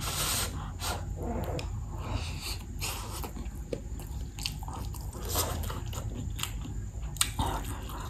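Close, steady biting and chewing of a hot egg-and-milk dish still in a nonstick pan, with soft crunchy, wet mouth sounds repeating throughout and no talking.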